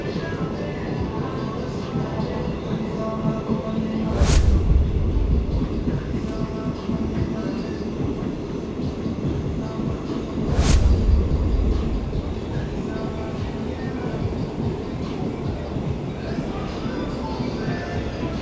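Passenger train ride in Uganda, heard from inside the carriage: a continuous rumbling rattle of wheels on track with two brief loud bursts of noise about six seconds apart, and no clear talk over it.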